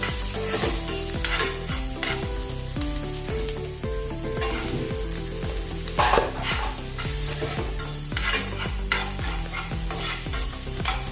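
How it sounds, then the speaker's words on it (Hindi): Chopped onion and green chilli soften in a frying pan with a constant, fairly loud sizzle and stirring, mostly buried under steady rhythmic background music. "थोड़ी देर इसको नरम करेंगे, प्याज और हरी मिर्च को।"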